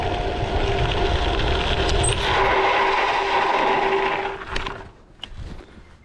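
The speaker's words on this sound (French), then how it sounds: "On va faire un freinage d'urgence" An Eleglide T1 250 W electric bike rolling at about 32 km/h brakes hard, a steady rushing wind and tyre roar that fades over a couple of seconds into quiet as the bike stops.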